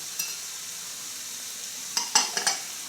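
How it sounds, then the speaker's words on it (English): A spoon stirs chipotle and smoked paprika through cooked quinoa in a pot while vegetables sauté nearby, giving a few short scraping strokes near the end over a steady faint sizzle. "And stir it up while we're waiting for our vegetables to saute."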